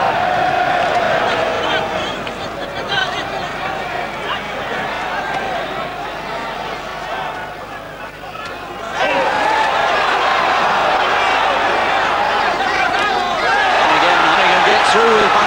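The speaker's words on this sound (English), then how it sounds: "And this crowd singing their appreciation of him." A boxing crowd at a Lloyd Honeyghan versus Jorge Vaca fight sings in appreciation of Honeyghan, a loud, sustained chorus of massed voices filling the arena throughout, briefly dipping then swelling back up.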